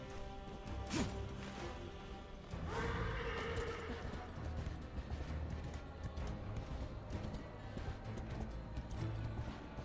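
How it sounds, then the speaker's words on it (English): A summoned horse in the video game Darksiders Genesis lets out a loud, close neigh, followed by galloping hooves and game effects, with a brief whoosh and crash sounds in the mix. "Did that change how I summon my horse?"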